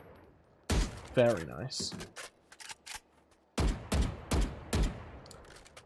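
Vandal rifle shots in the video game Valorant, a few loud separate bursts and single cracks spaced across the clip, with a brief spoken remark near the start.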